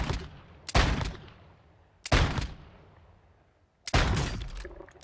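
Three sharp, loud gunshots from a weapon in the video game Warzone 2, each a single crack with a long fading tail, spaced about a second and a half apart.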